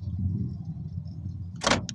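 A Suzuki Ignis's doors unlock from the key remote button with a sharp mechanical clunk of the locks, followed by a brief second click, over a low idling hum inside the car.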